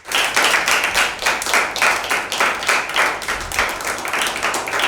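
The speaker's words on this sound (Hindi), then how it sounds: "मैं इन सबको इन्हीं की भरपूर तालियों में वेलकम करती हूँ" A group of children clapping to welcome guests on a Father's Day special of a Pakistani children's TV show, a steady, lively burst of hand claps with a loose rhythm that runs unbroken.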